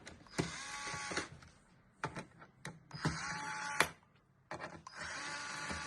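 An electric screwdriver whirs in several short bursts while unscrewing screws on a gaming PC, each burst a close, loud buzzing motor run separated by brief pauses and small clicks.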